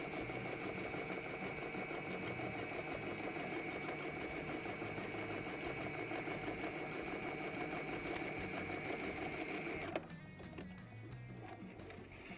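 A sewing machine stitches a kimono seam, a fast steady mechanical whir with rapid needle clatter running close and continuously, then stopping abruptly near the end, leaving faint handling noise.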